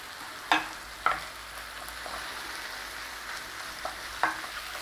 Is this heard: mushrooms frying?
yes